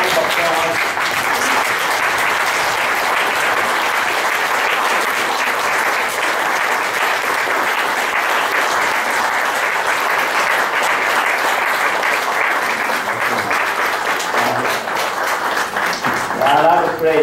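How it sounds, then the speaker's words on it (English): A church congregation stands and gives a sustained round of applause at a Christmas service, steady dense clapping that fills the hall loudly and evenly for a long stretch before tapering near the end. "Would you stand and give him a round of applause?"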